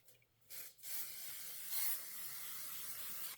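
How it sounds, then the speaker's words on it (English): An aerosol spray can sprays fabric while quilting a Christmas wall hanging: two brief puffs, then a longer steady close hiss of spray. "I'm going to give it a little shot of spray."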